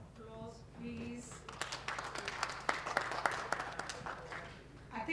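Scattered clapping at a State House renaming ceremony grows from a quiet start into uneven, sharp hand claps, fairly faint and distant, with a voice briefly audible at the beginning.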